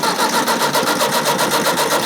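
A tractor engine cranks in a fast, even rhythmic churn of pulses, loud and close, without catching during the brief moment.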